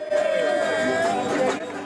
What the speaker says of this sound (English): As spectators gather and the crowd converges, dressed down participants get pumped up.